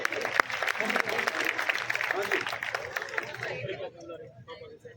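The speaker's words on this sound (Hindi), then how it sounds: "एक बार दोनों अतिथियों के लिए जोरदार ताली बजाओ।" Crowd applause at a Hindi comedy poetry gathering (hasya kavi sammelan) in Chomu, Jaipur: dense, loud clapping for about three and a half seconds that then thins into scattered claps and murmuring.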